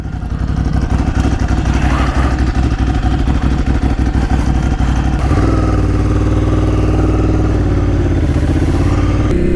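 An old Sport 1000 motorcycle engine runs loud and close, its steady idle throbbing with rapid mechanical clatter, then settling into a smoother, even drone partway through.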